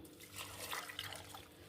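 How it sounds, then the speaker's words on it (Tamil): Faint splashing and trickling of water poured into a mixer jar over sugarcane pieces and ginger, a short soft stream with no talking. "தண்ணி ஊற்றி"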